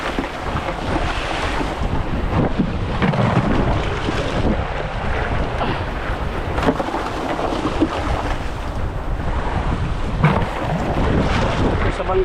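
Small outrigger boat (bangka) running on open sea, with a continuous engine drone and water rush mixed with heavy wind buffeting on the microphone, steady throughout.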